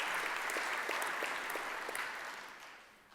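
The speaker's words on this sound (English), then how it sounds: "let's give a round of applause to all of the folks" An audience at a conference plenary and awards session claps together in steady, dense applause that gradually tapers off toward the end.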